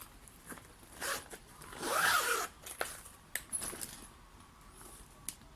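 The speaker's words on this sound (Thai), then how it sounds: "ช่องที่ 3 ก็จะอยู่ด้านหลังครับ มีซิปให้เราใช้งานนะครับตัวนี้" Zipper on the back compartment of an 80 cm fishing rod bag, heard close up as a few short scratchy pulls and one longer louder zip, with small clicks and handling noise, no talking.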